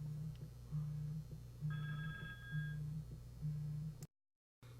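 A telephone rings several times in a locksmith's workshop, a steady low electronic ring pulsing in regular bursts, moderately loud with no talking, then cutting off abruptly near the end.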